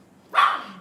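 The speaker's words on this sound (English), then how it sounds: "Okay, that's my dog. I have 2 dogs." A pet dog gives a single sharp bark indoors at home, close and fairly loud, with a short tail that fades into room quiet.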